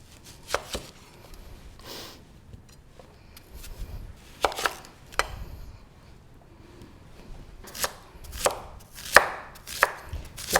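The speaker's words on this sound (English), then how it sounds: "Next is your onions. Cut it in half." A knife chopping a halved onion on a cutting board, with sharp, close knocks arriving in irregular bursts and short pauses between them, and no talking.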